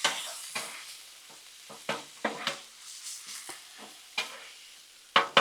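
Seasoned cabbage mixed and cooking on a Blackstone griddle, with repeated crisp scraping strokes of a spatula over a soft sizzle, the strokes coming in uneven bursts about every half second to second.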